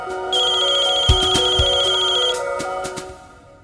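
An incoming-call ringtone plays a bright, repeating electronic melody for about two seconds, with a few soft thumps underneath before it cuts off and fades in an indoor drama scene.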